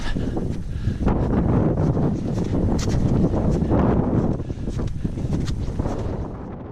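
Strong wind buffets the microphone on the snowy summit of Ben Lomond, a loud, gusting roar that surges and eases without any voices.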